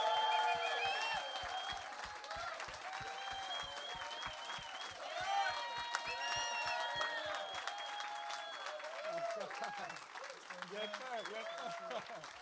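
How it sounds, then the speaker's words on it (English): An audience at an evening event for a 2026 Grammy nominee breaks into sustained applause and cheers, thick clapping throughout, with whoops and shouting voices rising over it and a few thumps early on. "give a big round of applause to this year's 2026 Grammy nominee"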